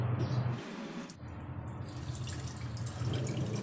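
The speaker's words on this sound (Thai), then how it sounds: "เสร็จแล้วก็เทน้ำทิ้งไปนะคะ" Water drained off soaked herbal medicine roots for a Thai five-root remedy, a close, continuous trickling and dripping pour lasting a few seconds, with no voices.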